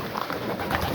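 Young pigeons coo softly near a loft landing board, a few low murmuring calls heard close by over faint background noise in a brief moment.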